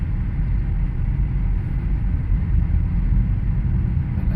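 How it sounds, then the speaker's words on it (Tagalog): Heavy evening traffic crawls along Commonwealth Avenue, a constant low rumble of idling car engines filling the air, close and steady with no distinct passes and no voices. "Very bad the traffic, sobra."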